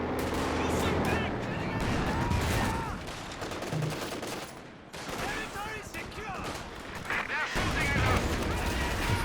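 Gunfire and machine-gun bursts in a Company of Heroes 2 1v1 battle, dense rattling volleys and explosions layered continuously under a commentator's voice throughout.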